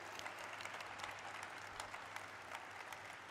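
An audience applauds continuously at the Lenskart Solutions stock listing ceremony, a dense, even patter of many hands clapping in a large hall, moderately distant and without voices over it.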